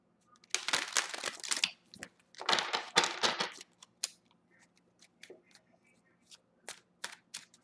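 A deck of cards being shuffled in two quick riffle bursts, followed by scattered soft taps and card handling, close by and fairly quiet.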